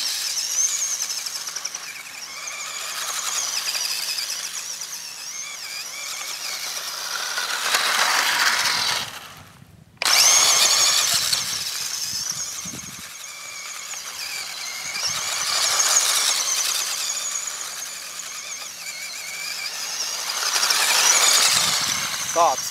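Small Tamiya Grasshopper 2 electric RC buggy motor whining as it drives on a sandy beach, rising and falling in steady surges as the car speeds up and slows, with a brief cutout midway and outdoor ambience.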